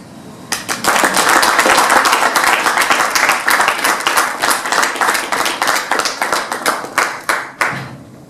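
Audience applause at an international coaching and mentoring awards ceremony, dense steady clapping from many hands that swells early, holds for several seconds, then thins into scattered claps at the end.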